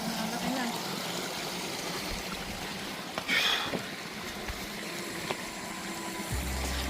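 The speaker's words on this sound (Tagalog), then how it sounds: "Yan o, lakas ang agos o." Strong, steady rush of a flowing stream current on a hiking trail, a continuous broadband wash that stays loud throughout, with brief voices over it.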